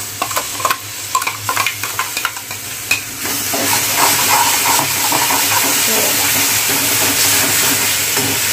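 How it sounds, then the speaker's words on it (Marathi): Ground masala paste for chole frying in a pan, stirred with a few scraping taps at first, then settling into a steady, close, loud sizzle and hiss that runs unbroken to the end. "या वाटणाला आपल्याला काय करायचं आहे, छान असं फ्राय करून घ्यायचं आहे"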